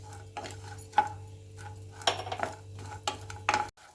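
Grated coconut frying in a pan for a corn flakes snack mix, stirred with a spoon that scrapes and clinks against the metal now and then over a low, steady sizzle, close by, with no voices.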